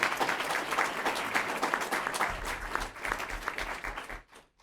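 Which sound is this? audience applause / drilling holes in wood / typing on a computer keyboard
audience applause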